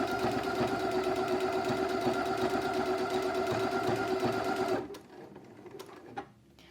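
Domestic sewing machine stitching a fabric napkin, running as a loud, steady, fast mechanical whir for several seconds before stopping abruptly, leaving faint handling noises.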